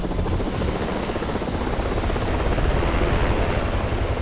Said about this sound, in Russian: Вот вертолет.